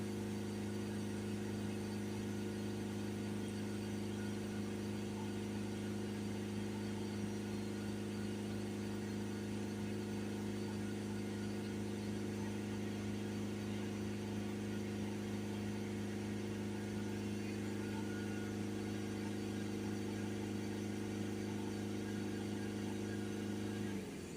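A Mercedes E Class 2.1 CDI diesel engine idles steadily with a constant low hum and vibration, close by and unbroken, with no voices.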